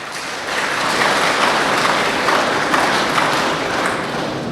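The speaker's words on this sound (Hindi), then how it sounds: "देखिए जरा ताली तो बजाइए भाई साहब के लिए।" Audience applause fills a lecture hall during a talk on positive thinking at a PAC battalion gathering, a steady, dense clatter of many hands held at an even level for several seconds with no voices.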